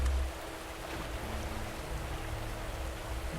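Water flows steadily in an abandoned-base level of the video game Unreal Tournament 3, a continuous broadband wash like a stream or rain that holds through the whole stretch and stays fairly loud.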